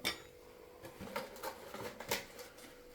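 A spoon clinks and scrapes against a pan while fish curry made with murrel, fenugreek and asafoetida powder is stirred, giving faint, irregular taps and light scraping with no talk.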